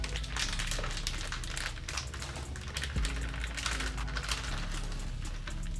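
Plastic gnocchi package crinkling as it is cut open and the gnocchi are dumped into a pot, a close run of rustles and small taps with no talk.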